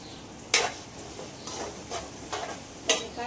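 Chopped onion fries in oil for a moth bean (matki) curry: a steady soft sizzle runs throughout, broken by several sharp, louder scraping and clattering bursts nearby.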